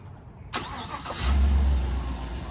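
A 2018 GMC Sierra 1500 Texas Edition pickup fitted with a Rough Country lift kit starts by remote start: a short cranking burst, then the engine catches and settles into a steady, deep idle, close by.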